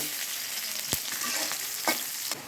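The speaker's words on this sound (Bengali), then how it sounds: "তেল গরম হয়েছে এখন আমি রসুনটা দিলে" Garlic sizzles vigorously in hot oil, a dense, close crackling hiss broken by a few sharp stirring clicks, with no talking.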